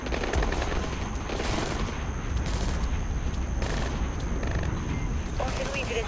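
Gunfire in Splinter Cell Blacklist, a dense stream of rapid shots and bursts over a rumbling game soundscape, loud and continuous throughout with no clear gaps.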